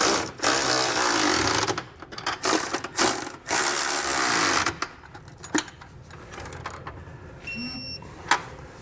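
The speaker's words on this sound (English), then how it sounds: "take a 19mm socket and wrench and begin tightening all of our fasteners down" A 19mm socket on a ratchet wrench tightening the trailer hitch receiver bolts on a 2020 Hyundai Palisade: loud, fast, close ratcheting in several long bursts with short pauses, easing into lighter clicks and mechanical clatter near the end.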